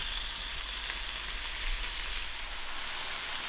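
Meat frying in a pan gives off a steady, soft sizzle throughout, with no voices over it.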